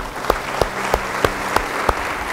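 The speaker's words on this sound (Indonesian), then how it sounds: "Beri tepuk tangan yang baik, yang semangat dong." Church congregation clapping during a sermon service, a steady bed of applause punctuated by a series of sharp, evenly spaced loud claps or beats at a rhythmic pulse, about six in a row.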